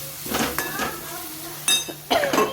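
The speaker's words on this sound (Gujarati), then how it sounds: "બધી વસ્તુ સરસ આપણે મિક્સ કરી લઈએ" Spiced potato filling with turmeric, coriander-cumin powder and salt stirred in a pan with a utensil, giving soft scraping strokes and a few sharp clinks against the metal, close by, with a faint sizzle underneath.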